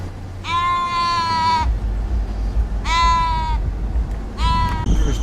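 A sheep bleats three times in long, wavering, drawn-out cries, close and loud over a steady low rumble.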